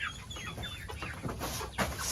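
Backyard chickens in a coop on a Caribbean mountain farm, young hens not yet laying, cluck and chatter in a dense overlapping flock, with a louder close squawk near the end against steady outdoor background noise.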